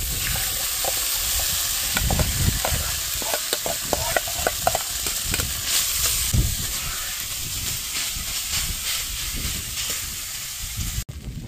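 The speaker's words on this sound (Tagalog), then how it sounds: "Sinangag sa camping." Fried rice (sinangag) stirred in a pan over a camp stove at a wild campsite, a steady close sizzle with repeated scraping and stirring strokes, no talk.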